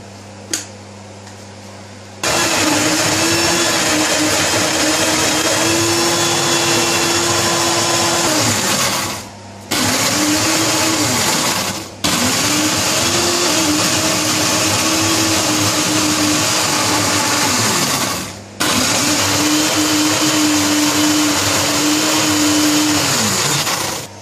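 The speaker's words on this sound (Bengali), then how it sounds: "And what we do, we blend it." An electric blender whirs loudly and steadily while blending Bengali shidol shutki dried fish chutney, running in long continuous bursts with brief pauses between them and no talk.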